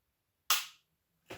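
Two sharp metallic clicks from a Sig P365 pistol trigger being dry-fired, close and crisp, the first louder with a short decay and the second following after a pause, with no talking.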